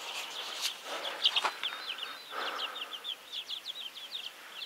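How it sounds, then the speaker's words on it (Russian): Chickens roam a village garden, giving a string of short, repeated chirping calls at moderate distance over a quiet outdoor background, fairly soft throughout. "Все, курочки гуляют."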